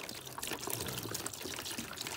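Water poured into a bath bowl for pigeons, a close, soft, steady splashing trickle lasting a couple of seconds.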